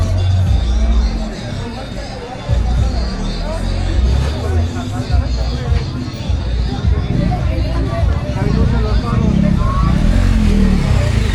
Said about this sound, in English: Delivery motorbike. Struggle to get through.